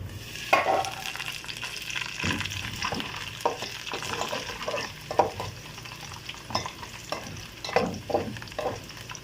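Onions fry in a pan for a chicken and ridge gourd curry, sizzling steadily while a spoon stirs and scrapes in irregular bursts, close and fairly quiet.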